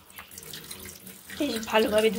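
Tap water running over live koi fish being washed in a kitchen, a soft trickle swelling into a louder, splashing stream after a moment, close by with no talk.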